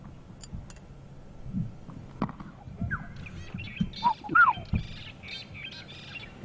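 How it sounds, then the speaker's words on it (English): Bright yellow bird with a black head calling during a morning safari game drive, with a few short chirps and whistled notes in the middle and later part over low vehicle rumble and faint background noise. "It's a bright yellow bird with a black head."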